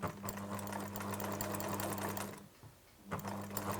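A sewing machine runs a long zigzag stitch down a knitted cardigan steek, a steady close mechanical whir that drops out briefly near the end and then starts again.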